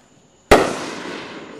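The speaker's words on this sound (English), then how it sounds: "They weren't like real fireworks like these." A single sharp, loud firework blast booms close by after a quiet moment, followed by a long fading rumble and crackling decay.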